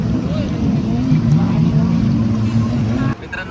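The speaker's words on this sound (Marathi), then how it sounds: "आता आपण चाललोय बनाना राईड करायला." Engine drone from a motorboat towing a banana boat ride off Coral Island, Thailand, loud and close with a steady low hum under wind noise that drops off abruptly near the end.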